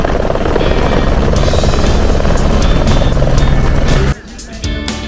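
A helicopter near Kedarnath, on the trek route above Gaurikund, thunders loudly and close with a continuous rotor roar that fades slightly toward the end.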